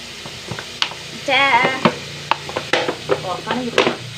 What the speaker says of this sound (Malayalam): എണ്ണ ചൂടായതിലേക്ക് ഉള്ളിയിട്ട് നല്ലോണം കറവറക്കുക